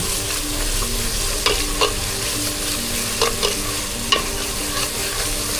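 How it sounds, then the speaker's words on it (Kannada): Masala with roasted cumin powder, made for a raw jackfruit curry, sizzles in a pan under a constant hiss while a spoon scrapes and stirs in several distinct strokes, close up and without any talking. "ಈಗ ಮಸಾಲ ಚೆನ್ನಾಗಿ ಫ್ರೈ ಆಗಿದೆ."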